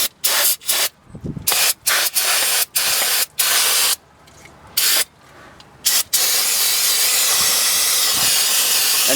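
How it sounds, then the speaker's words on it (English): Aerosol brake cleaner sprayed onto a 2007 Ford Expedition brake caliper and pad area in short repeated hissing bursts, then one long continuous spray, loud and close with no talking. "Trust me, you will go through a can or two of brake clean."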